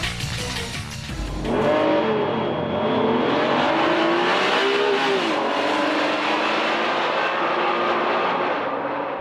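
Honda NSX-R sports car, a track-oriented model with titanium connecting rods, driving hard on a country road, its engine revving loudly and rising and falling in pitch through the gears, close and continuous.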